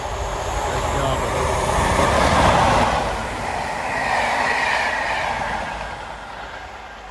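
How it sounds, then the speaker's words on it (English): A CrossCountry Class 43 HST on the Edinburgh to Plymouth service rushes past with a broad, swelling roar that peaks mid-clip and then eases off before fading. "Edinburgh Plymouth high-speed train cross-country service."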